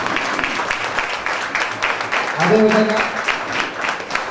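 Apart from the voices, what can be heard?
standing audience applause at award function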